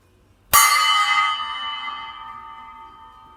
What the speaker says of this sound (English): for one of them, we have a gong.